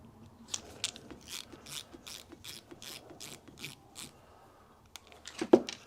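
A screwdriver works a brass screw out of a Stuart model steam engine, giving a series of faint, rhythmic ratcheting clicks up close, ending in a slightly louder scrape.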